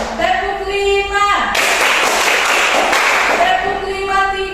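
Young pupils in a classroom clap a counted pattern together, about two seconds of loud, continuous group clapping set between stretches of a chanted voice.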